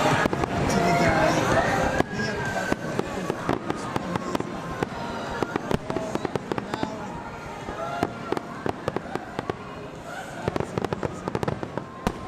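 Summer night fireworks at Busch Gardens Williamsburg explode in rapid, loud bursts and crackles, sharp reports continuing in an irregular barrage while people talk excitedly nearby.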